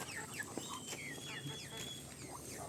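A large rooster clucks and calls in repeated short bursts outdoors among farmyard fowl including ducks, fairly faint at a moderate distance, with no talk.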